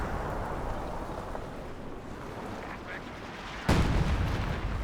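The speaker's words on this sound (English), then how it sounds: "it looks like he's using the creeping barrage ability" A creeping barrage of artillery in Company of Heroes 2 rumbles through a steady background of distant booms, then a heavy, loud blast lands near the end and keeps roaring.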